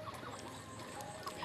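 A flock of chickens clucks while crowding and competing at a feeder, soft overlapping clucks and murmurs forming a continuous low background chatter.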